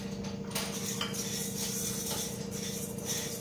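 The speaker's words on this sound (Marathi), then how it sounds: "एकसारखा आपण साबुदाणा भाजून घेऊया" Sago pearls roasting in a kadhai with a spoon scraping and clinking against the metal pan, a steady close scratchy rattle throughout with no talk.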